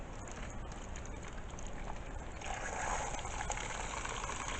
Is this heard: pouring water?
yes